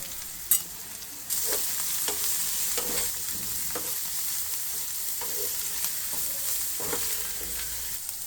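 Bitter gourd pieces stir-fried with onion, turmeric and chilli powder in a pan, giving a steady broadband sizzle with repeated scraping stirs roughly every second, close and fairly loud with no talking.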